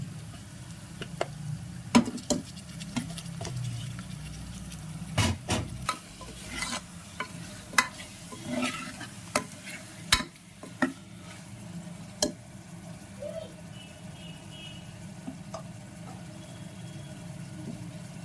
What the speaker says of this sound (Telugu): కొద్దిగా సేపు ఆయిల్లో చికెన్ని వేయించుకుందాం